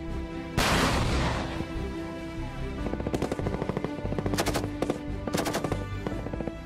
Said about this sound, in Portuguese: O tiro real de fração nível subunidade contou com a execução de 25 mil tiros para a progressão da tropa